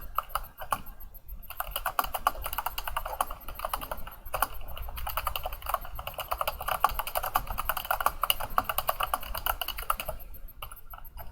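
Rapid, steady clatter of a computer keyboard as comments go into a student's record, close and continuous with brief pauses, no talking.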